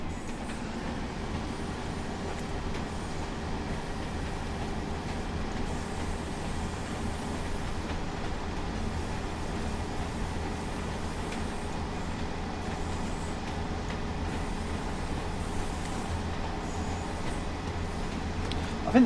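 A passing train in the Blackpool Branches railway game gives a continuous rumbling drone with a steady low hum and a rolling wheel noise that holds level throughout, with no voices.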